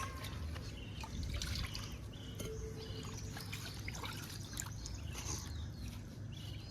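Fresh fish rinsed in water outdoors in a village setting, soft trickling, pouring and dripping splashes over a low background rumble, with faint birdsong in the distance.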